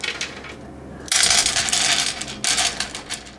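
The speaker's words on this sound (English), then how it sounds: "We've got the bottom of this cast iron pan filled with Kentucky coffee tree seeds" Hard Kentucky coffee tree seeds clattering and rattling into a cast iron pan in two quick pours, loud and close, with a brief pause between bursts.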